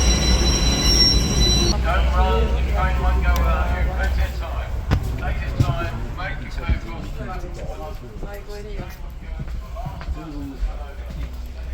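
A heritage train on the East Lancashire Railway rumbling steadily along the rails with squealing wheels and rhythmic clatter, loud and continuous, heard from on board.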